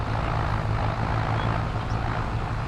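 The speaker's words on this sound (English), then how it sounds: "Is that Magnum that's got that loud roar?" A Magnum tractor in Farming Simulator 22 chopping corn gives off a constant, loud, low droning engine roar with a steady throbbing hum, unbroken by speech.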